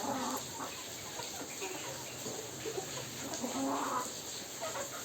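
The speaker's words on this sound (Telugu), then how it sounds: "ఇవి మన కోళ్ళు మధ్యాహ్నం అయితే ఇంటికి వచ్చినాయండి." Hens clucking softly in short bursts over a steady background hiss, a few birds close by, no talking.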